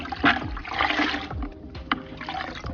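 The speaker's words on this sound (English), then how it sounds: "So let me just squeeze all this excess water out." Water splashes and trickles as a rinseless car wash sponge is squeezed out over a bucket, with irregular bursts of dripping and pouring, close up with no talking.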